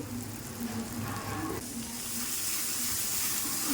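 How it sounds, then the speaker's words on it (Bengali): Spices sizzle steadily in a hot pan while being sautéed for a vegetarian jackfruit curry. The frying hiss is continuous and close, with a brief stirring scrape near the middle, and it grows slightly brighter toward the end. "ভালো করে মশলাটা কষিয়ে নেব।"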